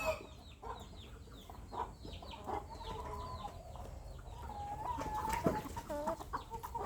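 Burmese game chickens in a garden flock, including a big flock rooster about a year old and roughly 3 kg, cluck and chirp repeatedly at a moderate distance, with bird calls overlapping throughout and no talk.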